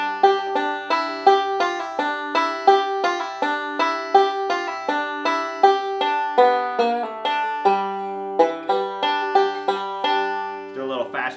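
Banjo lick with rolls and a fill, bright plucked notes in a steady rolling pattern repeating several times, close and clear with no talking, ending in a quick flourish.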